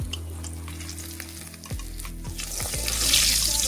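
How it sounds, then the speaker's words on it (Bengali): Mirik fish fry in oil at high heat for a Bengali curry, giving a loud, steady crackling sizzle that swells toward the end, with a few low thuds and no talking. "হাই টেম্পারেচারে ভাজতে হবে মাছগুলো।"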